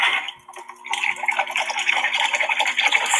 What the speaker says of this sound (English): Fresh water rinse.